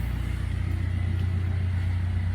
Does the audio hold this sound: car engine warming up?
yes